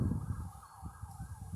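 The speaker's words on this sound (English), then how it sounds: "I'm hearing a siren and I'm wondering if it's my car, but it's not" Emergency vehicle siren wailing in the distance on a street in Lovelock, Nevada, a steady faint rising-and-falling tone over low traffic rumble, with no talk.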